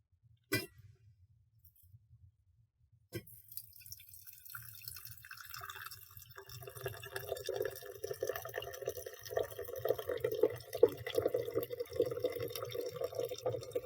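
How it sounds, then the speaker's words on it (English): Hot water pours steadily into a glass quart jar, a bubbling, rising trickle that builds after a couple of sharp clinks and a brief quiet. "So I've got my quart jar ready and I'm going to pour in the hot water."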